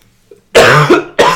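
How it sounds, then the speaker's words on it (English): A person with a cold gives two harsh, loud coughs up close after a brief faint throat sound, with a short pause between the bursts. "it's very rare for either of us to cough, but since we both have colds right now"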